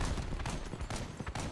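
Triple GL55 Impulse grenade launchers fire repeatedly in a video game, a dense, loud barrage of overlapping bursts with several sharper blasts standing out, no speech over it.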